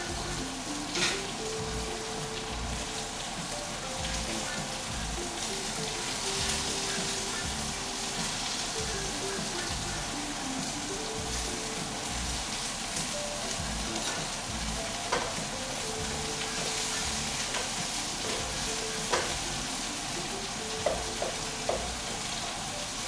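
Onions and carrots sizzle steadily in a frying pan as they start to brown, a dense even crackle over about twenty seconds, marked by occasional utensil clicks and stirs near the end.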